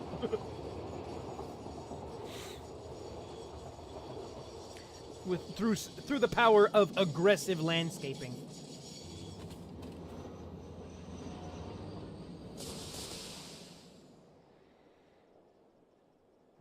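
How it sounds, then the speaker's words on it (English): An enormous train rolls past in a video game, a rumbling rail-car sound that swells in the middle with clattering and squeals, then fades, while someone talks over it. "I'm gonna have to wait for this train to go by because it is absolutely enormous!"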